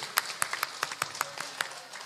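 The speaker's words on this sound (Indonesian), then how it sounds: "Tepuk tangan untuk ibu-ibu." A small gathering at a religious talk in Surabaya claps for the women, giving a brief, loose burst of separate, fairly close hand claps.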